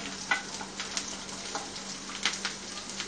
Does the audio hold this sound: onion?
yes